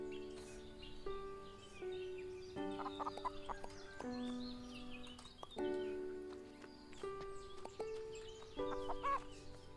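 A hen clucking in the farming video game Everdream Valley, with a run of bright, choppy clucks in irregular bursts, close and clear with no talk over them.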